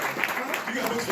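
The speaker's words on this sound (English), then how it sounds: "Ray, round of applause." Brief burst of audience clapping at a comics panel during Black Comix Day, a dense patter of hands mixed with murmuring voices, cut short after about a second.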